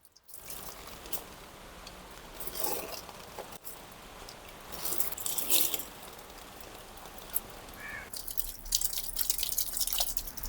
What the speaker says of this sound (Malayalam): വെള്ളതാ ഇതുപോലെ തളിച്ചു കൊടുത്തുകൊണ്ടാണ് ഞാൻ നനയ്ക്കുന്നത്.